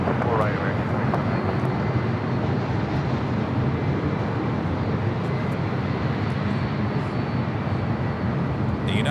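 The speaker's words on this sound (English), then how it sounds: "The United 757 coming in from Newark, flight 2679, heading to Terminal 7 there on the south side" A United Boeing 757 arriving from Newark lands at LAX, its engines making a broad steady roar that fills the scene, while a commentator talks over it.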